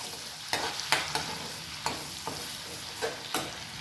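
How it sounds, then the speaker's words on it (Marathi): Ginger garlic paste fries in oil and a tablespoon of butter in a kadai, a steady sizzle broken by repeated scraping strokes of a spoon stirring it, close and without talk. "आपण त्याच्यात ही आलं लसूण पेस्ट परतून घेतोय"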